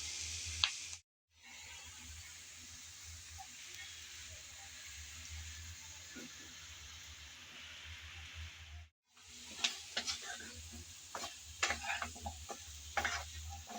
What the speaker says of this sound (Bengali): আমি এখন নেড়ে চেড়ে ভালোভাবে একটু কষিয়ে নিলাম।